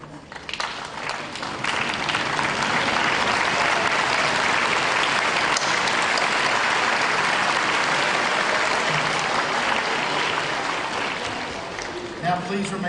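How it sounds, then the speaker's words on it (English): A commencement crowd at Brunswick Community College gives a standing ovation, sustained loud applause with dense clapping for family and friends, swelling quickly and holding steady before easing slightly at the end. "Please give a standing ovation to your family and friends."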